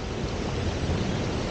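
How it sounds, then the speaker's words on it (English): Floodwater rushes across a trail, a loud, dense, continuous roar of running water with wind buffeting the microphone and no break. "It's not even running water. It's like a flood."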